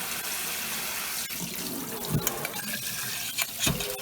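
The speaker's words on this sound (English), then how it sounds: "I'm gonna rinse them with cool water." Cool tap water runs steadily into a sink as tapioca pearls are rinsed in a sieve, a loud continuous splashing rush with a few heavier gushes and sieve knocks near the end.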